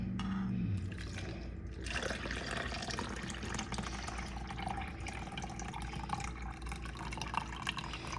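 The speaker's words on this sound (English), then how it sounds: "Right now, we is going to pour the juice out." Pineapple Kool-Aid juice pours out of a jar in a continuous splashing, trickling stream, fairly quiet and without talk.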